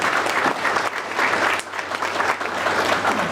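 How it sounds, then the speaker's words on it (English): Applause from a business crowd at a chamber of commerce breakfast meeting, a full, sustained patter of many hands clapping at steady volume, with a faint low hum in the room underneath and no talking. "Please, a round of applause for CPR by Phil LLC."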